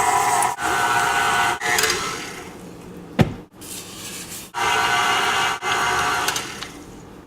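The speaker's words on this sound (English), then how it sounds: "Then cream this all together with the paddle attachment until it's nice and fluffy." A stand mixer with a paddle attachment creams room-temperature butter and sugar for a carrot cake, a steady close motor whir with a rhythmic churning pulse, briefly interrupted by a knock partway through.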